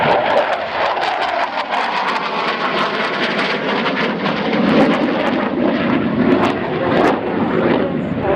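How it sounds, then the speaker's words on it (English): Panavia Tornado jet flying a display at the Royal International Air Tattoo 2014, a loud sustained roar of jet engines that swells and holds steady throughout with no talk over it. "Roll rate of the VA200 Tornado is 200 degrees per second."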